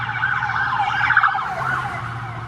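A police car races along with its siren wailing in loud, sweeping rising-and-falling tones, close by over a low engine rumble.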